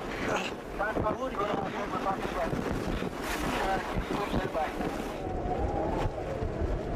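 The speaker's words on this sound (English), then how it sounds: "It's pretty blowy here on the col at the moment" Strong wind roars across Everest's South Col, buffeting the microphone in a constant loud rush, with a voice talking through it.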